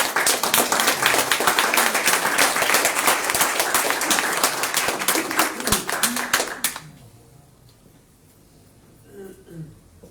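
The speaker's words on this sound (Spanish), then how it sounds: "Damos un aplauso al Señor." A church congregation breaks into loud, dense applause mixed with voices and cheers for several seconds, then the clapping cuts off abruptly and only faint room sound and a few distant voices remain.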